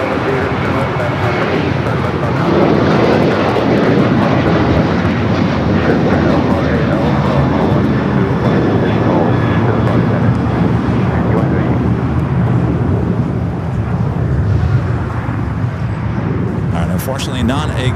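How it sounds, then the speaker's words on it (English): A Boeing 777 freighter arriving from Taipei lands at Los Angeles International, its heavy jet roar steady and loud throughout, with people talking over the broad engine rumble. "777 freighter is coming in from Taipei"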